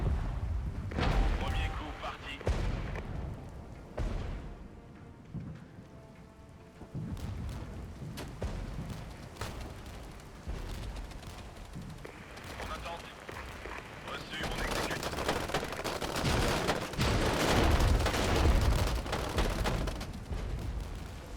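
Artillery shells pound tanks in the war strategy video game Regiments, with rumbling blasts and crackling gunfire rolling through a busy battle soundscape that swells louder near the end, a voice talking over it.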